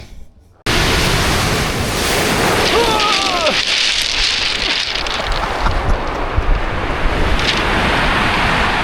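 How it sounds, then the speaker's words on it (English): Loud crashing surf roars continuously on a Portland beach, a dense wash of ocean waves close by, with faint voices briefly heard under it. "I was trying to get the sounds of the ocean."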